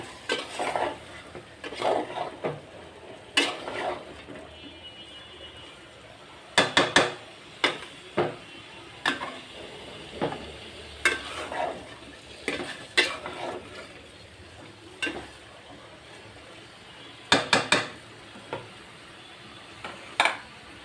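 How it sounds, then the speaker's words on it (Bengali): Ridge gourd pieces are sautéed in a pan, with a soft sizzle underneath and repeated scraping, clattering strokes of a spatula against the pan coming in irregular bursts throughout, no voices. "দুন্দুলটা কষিয়ে নিলাম বেশি কষাবো না"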